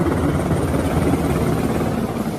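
A helicopter thrums steadily with a rapid rotor chop and engine drone, continuous and fairly loud throughout.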